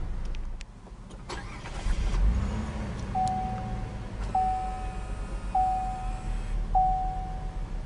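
A 2012 Cadillac SRX Performance Collection starts by push button: a short crank catches into a smooth, steady idle, while a dashboard chime beeps four times at even intervals.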